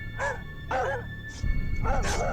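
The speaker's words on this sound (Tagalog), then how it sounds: "Lalo na kapag tumatahol ang mga aso ng kapitbahay sa ganong" Neighbours' dogs bark at night, several repeated yelping barks in quick succession, fairly close and clear, over a low background rumble.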